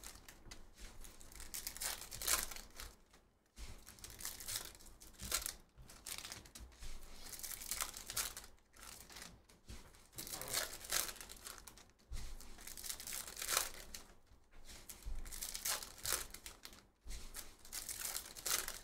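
Bowman University Chrome basketball hobby packs are torn open up close, with crinkling foil wrappers, repeated rips and rustles in rhythmic bursts separated by brief pauses.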